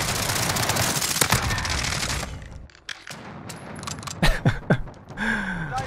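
Akimbo Sykov pistols fire in a video game, dense rapid shots pouring out continuously, then a brief lull before scattered sharper individual shots and mechanical clicks close up.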